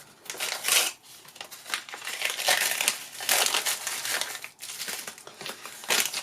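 Tissue paper crinkling while unboxing an LOL Surprise OMG doll, close, continuous rustling and crumpling in uneven bursts, loud and alone without talk.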